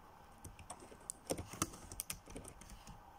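Fingers typing on a computer keyboard, a close, quiet run of irregular key clicks with a few sharper taps, no voice over it.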